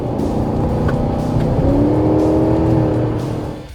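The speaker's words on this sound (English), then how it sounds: "there's a pretty aggressive exhaust noise when you press the throttle" A loud, throaty pickup truck exhaust, a Chevrolet Silverado ZR2 or RAM TRX, roars steadily as the throttle is pressed, with the note rising slightly before easing off at the end.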